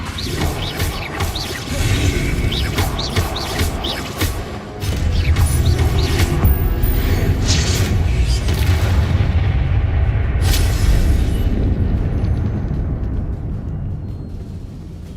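Confringo spell blasts in Hogwarts Legacy: loud, booming fiery explosions with crackling debris and mechanical rumble, overlapping in quick succession and then trailing off into a fading tail.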